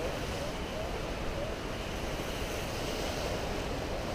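Water rushes and sprays continuously on a river rapids boat ride at a Dubai theme park, a steady broadband wash with wind noise and no distinct breaks.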